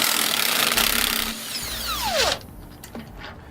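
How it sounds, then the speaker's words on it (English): A socket ratchet clicks on a suspension end-link bolt while a wrench holds the nut behind, a close burst of mechanical ratcheting and metal scraping, with a short squeal as the bolt turns free, no talking. "we're going to use an 18mm wrench to hold the nut on the back side and a 15mm socket to pull the bolt out"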